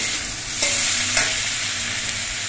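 Ginger and green chili paste sautéing in a pan for a vegetarian okra dish, giving a steady close sizzle with a couple of brief scraping stirs.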